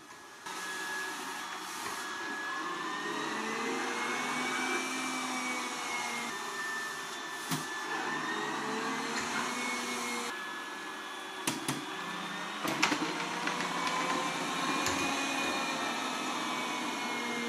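Yeedi robot vacuum-mop with washing station runs across a dirty floor, a steady close whirring drone with shifting whine as the suction power ramps up and back down, plus a few brief clicks and knocks.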